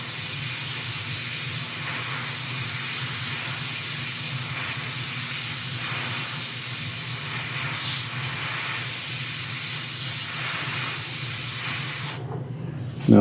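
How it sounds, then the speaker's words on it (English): An airbrush hisses steadily while spraying very light pink paint onto a figure's cheeks, a continuous close, moderately loud spray that stops near the end. "airbrush a very light pink onto the cheeks a little bit."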